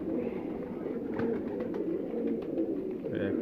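Pigeons coo on a rooftop loft in Faisalabad, a low steady murmur of overlapping calls that runs throughout, with a brief higher chirp near the end.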